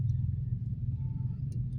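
Mahindra XUV 3XO AX5 automatic petrol car driven in stop-start traffic, heard from inside as a low, steady engine and road rumble, quiet and even with no talking.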